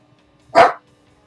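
A dog named Duke gives one sharp, loud bark in an otherwise quiet room.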